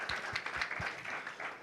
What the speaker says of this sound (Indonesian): Ayo kita tepuk tangan dulu yang kenceng nih buat Tuhan kita yang baik.